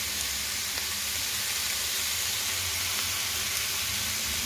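Onions hiss and sizzle steadily in hot oil in a frying pan while chicken sauté with vegetables is cooked, a constant close frying crackle with no talk.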